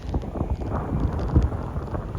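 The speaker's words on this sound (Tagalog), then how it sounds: "Ay, ang lakas ng ulan." Heavy rain roars steadily outdoors, loud and close, with wind buffeting the microphone and a few heavier thumps mixed in.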